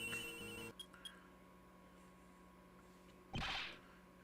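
A second cell phone ringtone chimes from the video game Ace Attorney Investigations 2, a short burst of electronic tones at the start, then faint blips and a brief bright swell near the end.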